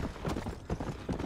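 Horse hooves clip-clop in a quick, steady rhythm along a road in Red Dead Redemption, moderately close and unaccompanied, with no voices.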